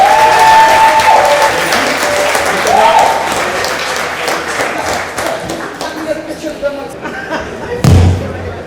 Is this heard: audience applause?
yes